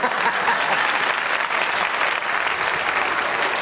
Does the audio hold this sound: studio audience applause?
yes